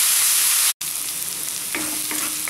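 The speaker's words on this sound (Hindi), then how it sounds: "प्याज को लाइट ब्राउन होने तक भूनना है, फुल्ली हमें इसको ब्राउन नहीं करना है" Onions sizzle and crackle steadily in hot oil in a pan while browning for Amritsari chole, loud and close, with a brief cut in sound and faint stirring clicks near the end.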